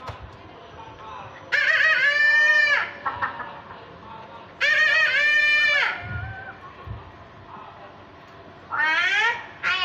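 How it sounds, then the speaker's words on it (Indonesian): A rooster crows in the morning, three loud, drawn-out crows spaced several seconds apart, with a quiet background between them. "Ketika sudah pagi, ayam jantan mulai berkokok."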